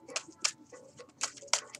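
Tarot cards are shuffled by hand in quick, crisp riffles and slaps, a run of short bright bursts close by and soft, with no talking.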